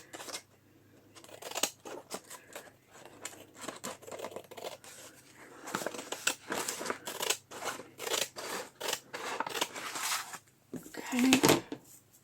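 Scissors cut through a faux leather journal cover in a long series of close, quick snips and rustles, with a voice speaking intermittently between the cuts.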